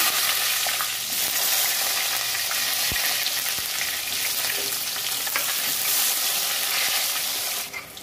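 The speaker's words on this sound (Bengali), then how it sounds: "বেগুনটা ভেজে নেব।" Eggplant pieces fry in hot oil for a Bengali shukto, giving a dense, steady sizzle that stays close and loud throughout with no voices.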